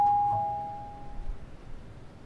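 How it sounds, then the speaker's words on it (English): A single electronic doorbell chime in a video game rings out clearly, a sustained bright tone that fades away into soft background noise. "Uh, doorbell?"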